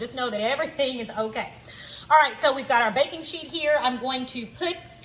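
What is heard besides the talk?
None of the usual background noises is heard.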